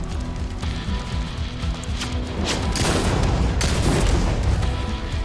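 Gunfire from the video game Soulslinger: Envoy of Death, with dense booming bursts and crackling shots that build into a thick volley toward the end.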